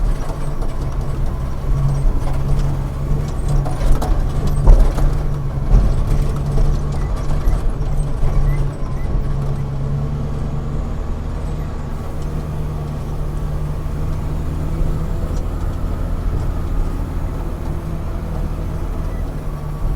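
A dumper truck runs through a mine at night, its heavy engine drone steady and continuous at moderate distance, with low rumbling and occasional mechanical clatter around the five-second mark.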